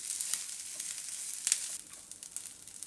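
Wheat roasts in ghee over a low flame, giving a steady, soft sizzle with gentle crackles and occasional stirring scrapes close by.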